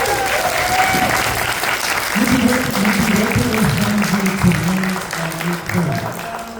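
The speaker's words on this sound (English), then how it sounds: "Round of applause, please." A convention crowd applauds steadily at a Power Rangers panel, with cheering voices rising through the clapping and a person talking over it.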